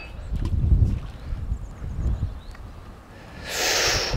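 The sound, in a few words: fresh wind blowing in a meadow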